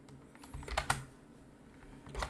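A few quick keystrokes on a computer keyboard while typing text during Figma design work. The clicks are close and crisp, in a short burst, then a pause, then a final cluster.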